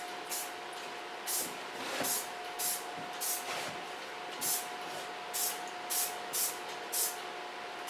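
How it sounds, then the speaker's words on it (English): Soft brush-out hairspray being sprayed onto curly hair in quick repeated hissing bursts, about a dozen short sprays in an uneven rhythm, close and moderately quiet over a faint steady tone. "but then I take a hairspray that's also soft. That's a brush out hairspray."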